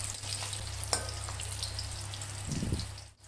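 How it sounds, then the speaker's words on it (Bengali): Pieces of homemade chhena (paneer) fry in oil in a kadai, a soft, steady sizzle and bubbling with a low background hum and a brief clatter of stirring partway through. "কড়াইয়ে যে তেল আছে সেই তেলেই আমি আবার ছানাগুলো ভেজে নেব।"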